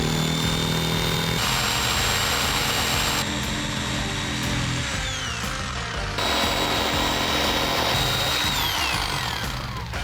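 A power tool cuts through OSB sheets along marked lines during a van camper conversion, running loud and continuous with short pauses and shifts in pitch between passes.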